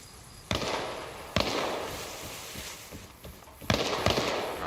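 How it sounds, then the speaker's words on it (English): Gunfire echoing down a street in the DayZ video game, several sharp distant-sounding shots spaced irregularly over a rumbling background, with no talk. "someone's firing in the street"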